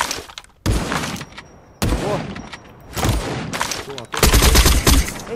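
Loud bursts of gunfire from the PvP shooter Badlanders, rapid repeated shots in several volleys separated by brief pauses, close and punchy.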